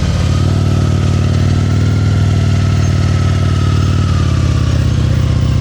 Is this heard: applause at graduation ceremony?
no